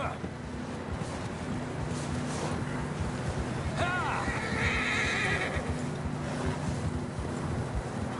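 A horse neighs in Red Dead Redemption 2, a whinnying call near the middle amid hoofbeats clip-clopping on wind-blown ground, with steady outdoor wind noise throughout.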